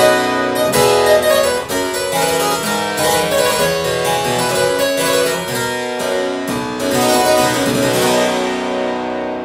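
Restored harpsichord with its two registers coupled, producing a loud, bright, full plucked sound; dense continuous chords and runs played up close, ringing out at the end.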